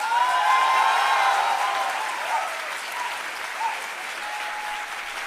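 Parents clapping in a hall at a university convocation, a steady wash of applause that gradually softens while continuing throughout.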